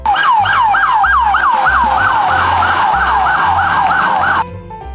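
A toy police car sounds a loud, close electronic siren, a fast repeating wail-yelp cycle about a dozen times, before stopping abruptly just before the end.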